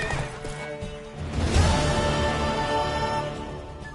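Horse neighing mixed with hoofbeats and clip-clop in The Witcher 3: Wild Hunt, a loud whinny rising midway over steady background game audio.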